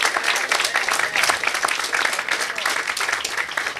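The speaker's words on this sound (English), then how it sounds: "Lots of applause, lots of applause." Audience applause at a Newark Housing Authority groundbreaking ceremony for new housing units, a dense, sustained burst of many hands clapping close by, steady throughout with no talk over it.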